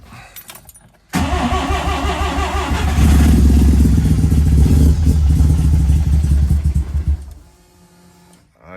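A Mazda RX3 with a Bridgeport-ported turbo rotary engine cranks briefly, then catches and fires into a loud, lumpy, crackling idle that rises and holds before cutting off, heard up close.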